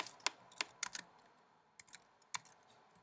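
Computer keyboard keys are typed close up while JavaScript code is written, producing quiet, irregular clicks in short bursts with gaps between them and no talking.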